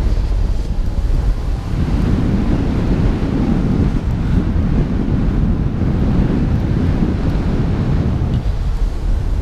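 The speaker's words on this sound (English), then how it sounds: "These waves can kind of sneak up on you." Ocean surf breaking on a beach at Cabo San Lucas, Mexico, a steady loud roar of crashing waves with wind buffeting the microphone throughout, swelling and easing without pause.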